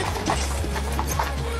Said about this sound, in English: Where did you get a freaking horse?